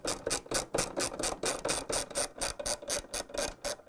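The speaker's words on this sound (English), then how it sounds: "now we're going to put 3 bolts to secure the transmission. 1/2" socket wrench." A 1/2-inch socket wrench ratchets repeatedly while tightening three bolts that secure the transmission of a Whirlpool/KitchenAid/Maytag washer gearcase, giving rapid, evenly spaced metallic clicks up close with no talking.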